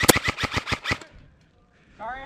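Rapid airsoft gun fire during a milsim game, a burst of about eight sharp cracks close by in quick rhythm, followed by near silence and then a brief voice.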